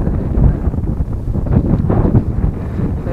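Wind buffets the microphone in low, rumbling gusts that rise and fall continuously over open farmland in San Miguel, Bulacan, with no voices.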